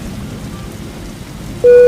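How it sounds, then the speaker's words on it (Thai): Steady rain hisses during a stormy landing in the Cabin Crew Simulator video game, an even wash of noise that ends with a sudden bright tone. "ลงจอดท่ามกลางพายุฝน"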